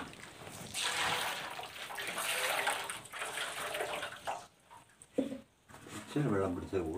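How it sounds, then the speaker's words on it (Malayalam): Water is poured in a steady rush that rises and falls over several seconds, with a person talking throughout and a quieter pause near the end. "ആ ഒരളവിൽ തന്നെ വെള്ളം ഒഴിക്കും അല്ലേ?"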